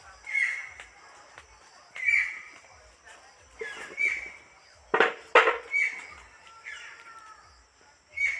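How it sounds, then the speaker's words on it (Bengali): Harsh crow-like caws repeat every couple of seconds over a quiet outdoor background, with a couple of sharper louder bursts midway. "কি পাখি আওয়াজ ওটা? মনে হচ্ছে তো এ পাখি।"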